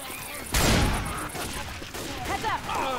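Gunfire in Left 4 Dead 2 erupts in a loud burst after a quieter start, then trails into lighter shots and game noise while voices talk over it.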